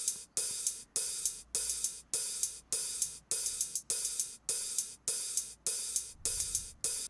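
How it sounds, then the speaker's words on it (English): Hi-hats in an electronic music production tick in a steady repeating pattern of bright, crisp hits, each with a short swelling decay, close and quiet, with no voices. "The hats sound like this."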